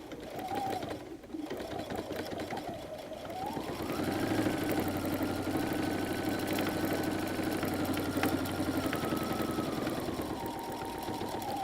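A sewing machine runs steadily as it stitches back over seam lines on a messenger bag, starting after a brief pause and then whirring continuously with a low motor hum, close up and moderately loud.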